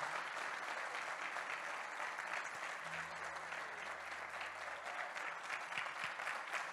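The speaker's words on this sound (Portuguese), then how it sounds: "eu quero te convidar a aplaudir Jesus, mas bem forte, muito forte, até doer sua mão" A church congregation applauds Jesus during a sermon, dense continuous clapping filling the whole stretch at a fairly distant, even level, with a faint low hum briefly underneath.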